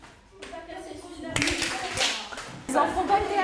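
Children clapping their hands together after finishing a song in a group setting, a burst of close handclaps that swells and then picks up again, with kids' voices chattering underneath.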